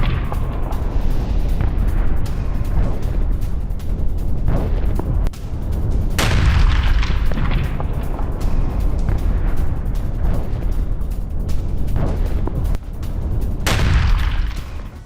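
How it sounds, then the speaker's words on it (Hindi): Explosions from an IDF missile strike on a Hamas observation post in the Gaza Strip: continuous loud, heavy rumbling blasts with sharp booming peaks, dense and close throughout. "आईडीएफ ने किया मिसाइल से हमला"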